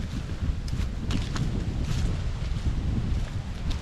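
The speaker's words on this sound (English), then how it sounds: "The sun feels amazing, but the wind is frigid." Cold wind gusts across a mountain trail on a sunny day, blowing hard into the microphone as a constant low roar with occasional faint crackles.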